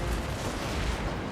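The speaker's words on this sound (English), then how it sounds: "I think one of those cannon shots hit Deathclaw right in the backside there" Dense, rumbling cannon and artillery fire from a large battle in the video game Total War: Warhammer, a continuous roar of overlapping blasts with no clear pauses, heard alone without talk.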